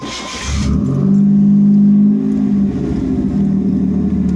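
A 1989 Chevy Camaro engine with ECM and VATS trouble cranks briefly, then catches and settles into a loud, steady idle with a strong low hum close by.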